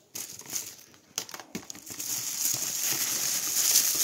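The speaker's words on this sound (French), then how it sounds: "Allez, on passe tout de suite au déballage." Packaging of a pair of Nike TN sneakers being unboxed, with close, irregular crinkling and rustling of paper and plastic that builds into a denser rustle toward the end.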